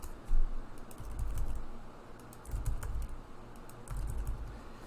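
Fingers tap on a computer keyboard while filling a table cell in LibreOffice, quick clustered keystrokes arriving in short bursts separated by brief pauses, close and fairly quiet.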